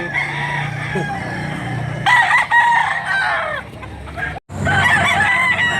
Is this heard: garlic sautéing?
no